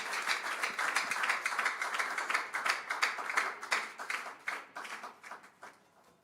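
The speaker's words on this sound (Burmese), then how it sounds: "လက်ခုပ်တီးပြီးတော့မှကြိုဆိုရအောင်" A church congregation claps steadily for several seconds at a Tuesday worship service, welcoming a singer; the dense applause peaks and fades toward the end.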